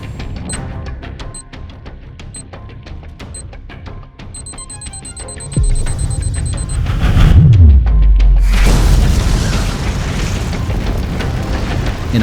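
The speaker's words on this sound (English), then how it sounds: "An explosion shattered the sky" A dramatized mid-air explosion: a ticking, clock-like mechanical passage gives way to a deep booming blast around the midpoint, then a loud, sustained roaring rumble that fills the rest.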